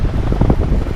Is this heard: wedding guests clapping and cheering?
no